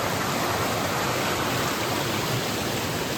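An overflowing stream rushes beside a hiking trail after heavy rain, making a loud, steady, broadband roar that stays close and constant with no voices.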